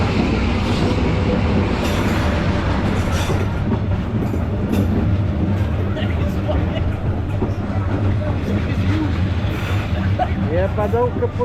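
A train rolls slowly through a narrow residential street in Hanoi, Vietnam, a loud continuous rumble and clatter of wheels close by, with brief squeals near the end and voices around it.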